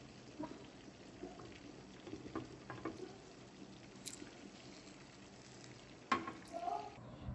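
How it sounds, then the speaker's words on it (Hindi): Store-bought pita bread warming in a pan, giving a faint, steady low sizzle with a few soft taps and a brief clatter near the end. "ब्रेड है इसको मैं थोड़ा थोड़ा सा सेक लूँगी ताकि ये फ्रेश हो जाए, गरम गरम सी हो जाए"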